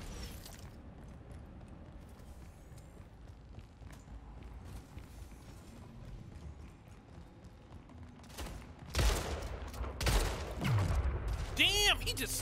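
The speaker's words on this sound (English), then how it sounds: "Damn, he just sniped me." Gunfire in the arena shooter Splitgate: Arena Warfare, scattered quieter shots and footsteps at first, then loud bursts of fire and a sharp sniper crack near the end, with a voice talking over the action.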